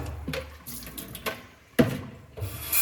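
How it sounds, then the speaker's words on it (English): Water rinsing a wheel from a bucket, a few splashy pours and trickles with one louder gush near the middle, close by and without talk. "Our final bucket rinse."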